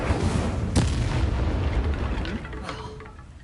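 A fire spell cast in the wizarding game Hogwarts Legacy gives a loud, booming burst that rolls into a sustained roaring rush and slowly fades.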